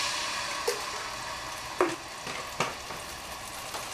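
Garlic fries in a hot pan, a steady close sizzle punctuated by several sharp spatters and utensil clicks spaced unevenly over a few seconds.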